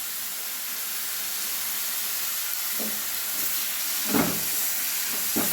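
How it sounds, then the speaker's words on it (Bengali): Tomato paste fries in a pan over a medium gas flame, giving a soft, constant hiss. A few faint clinks and pops stand out now and then. "টমেটো বাটা আমি ভালোভাবে একটু ভেজে নেব"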